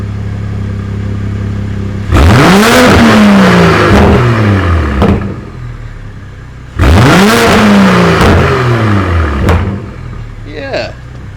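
BMW M240 with a new downpipe and its exhaust valves open, revved hard twice, each time a loud rising roar that falls back to a rumbling idle, heard close.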